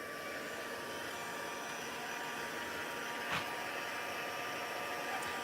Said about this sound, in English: I'm just going to heat this with my heat tool.